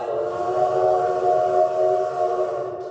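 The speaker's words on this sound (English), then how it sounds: "The train pulls out of the station." A steam-era train pulls out of a station, giving a steady, loud rumbling drone with sustained whistle-like tones held throughout, no voices.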